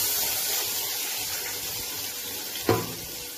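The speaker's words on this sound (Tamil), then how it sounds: "இப்ப நம்ம வந்து வெங்காயத்தை போடலாம்" Onions dropped into hot reused frying oil give a steady, close hiss of sizzling throughout, with a brief louder burst near the end and no talk.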